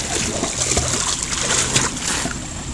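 A child jumps into a swimming pool, throwing up a close burst of splashing and sloshing water that settles into lighter dribbles over a few seconds.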